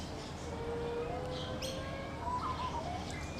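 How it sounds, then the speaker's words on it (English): Finches chirp in a walk-through zoo aviary with a Blue Mountains bushwalk setting, giving several faint, scattered tweets over a steady background hiss. "Plenty of finches flying around."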